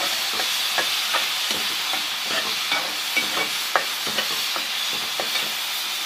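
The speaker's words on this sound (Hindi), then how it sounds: "प्याज को हमने ब्राउन नहीं करना, सिर्फ हल्का सा उसको हमने" Onions softening in oil in a pan for potato-stuffed naan cooked on a tawa without an oven, giving a steady close sizzle with scattered soft crackles and occasional stirring scrapes, no talking.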